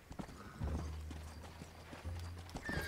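Horse hooves clip-clop in Red Dead Redemption, a steady run of hoof beats, close and fairly loud, with a faint whinny. No one speaks.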